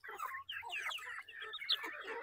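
Pure Basilan native chickens cluck and chatter softly in quick, irregular calls, faint and fairly close, with no talking over them.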